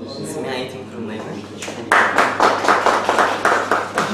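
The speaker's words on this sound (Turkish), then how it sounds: "İkisini de canı gönülden destekliyoruz, alkışlıyoruz." A voice talks, then a crowd breaks into lively rhythmic clapping, applauding students of Simya education institutions; the claps are close and loud and run on steadily to the end.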